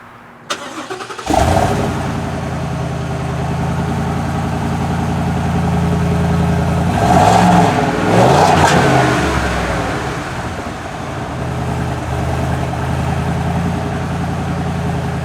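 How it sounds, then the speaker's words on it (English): A 2020 Ford F-250 Super Duty's 7.3-liter gas V8 exhaust starts up then idles with a deep rumble, swelling into revs in the middle before settling back to a steady idle. "let's take a listen to the exhaust of this truck"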